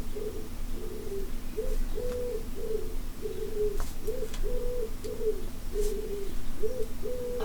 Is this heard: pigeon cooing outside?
yes